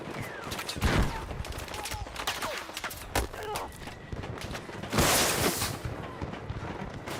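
Gunfire in the Battlefield 6 video game while playing as Recon, several sharp loud shots spaced irregularly over a bed of distant battle noise, with a few quieter cracks and tails between them.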